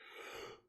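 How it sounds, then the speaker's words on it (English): A single short yawn, close and quiet, a breathy exhale that swells and then fades out. "Sorry for yawning so much."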